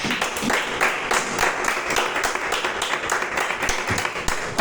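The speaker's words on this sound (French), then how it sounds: "Acclamons Jésus" A church congregation claps together in sustained, dense applause, loud and steady throughout with no speech.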